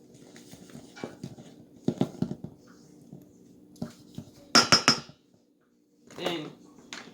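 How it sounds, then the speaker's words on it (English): Homemade bread ingredients with coconut are mixed in a bowl, giving scattered knocks, clinks and scraping taps at close range, including a sharp cluster of metallic clatters, between short quiet pauses. "Then you mix it together."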